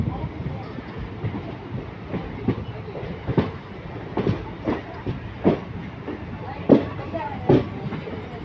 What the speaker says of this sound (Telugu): తాంబరం నుండి బయలుదేరాక మన ట్రైన్ వెళ్ళాగేది చెంగల్పట్టు జంక్షన్లో